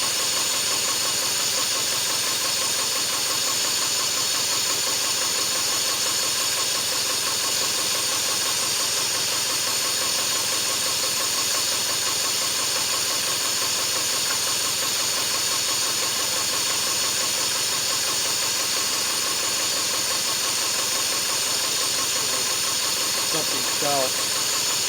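A four-cylinder engine idles lean while firing on only two cylinders, giving a continuous, fairly loud mechanical drone with a steady, slightly uneven running sound throughout.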